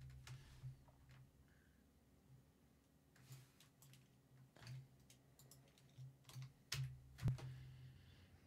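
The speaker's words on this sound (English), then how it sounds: "I hate typing on this keyboard." Faint, irregular clicks and taps of typing on a computer keyboard run for several seconds, with a few louder key strikes toward the end and no talk.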